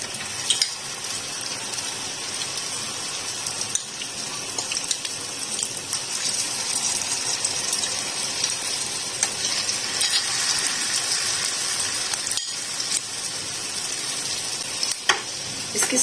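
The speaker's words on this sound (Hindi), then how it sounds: "ये देखिए, इस तरीके से इसको फ्राई होते जाएंगे।" Potato cutlets fry in hot oil with a continuous, close, crackling sizzle that holds steady throughout, broken by occasional sharper pops and spatters.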